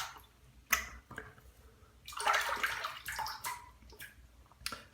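Running water rinses shave soap off the face, with splashing bursts and a fuller stretch of flowing water in the middle, heard close and alone.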